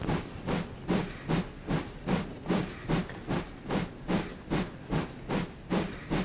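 GWR No. 4110, a steam locomotive on the Paignton & Dartmouth Steam Railway, chuffs uphill in a steady, even beat of about two exhaust blasts per second, clear and close, with hiss between the beats.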